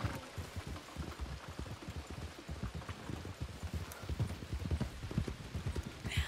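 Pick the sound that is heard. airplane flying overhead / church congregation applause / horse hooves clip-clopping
horse hooves clip-clopping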